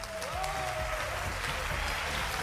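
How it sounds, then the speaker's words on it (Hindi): Studio audience applause at a Pakistani television game show, a steady wash of many clapping hands filling the room, with a faint voice and some low musical tones underneath. "तालियां होनी चाहिए।"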